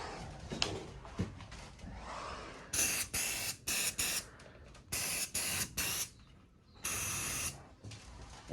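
Rust converter is sprayed from a can onto the rusty metal of a caravan in short hissing bursts of about a second each, with pauses between them. Faint background noise fills the gaps.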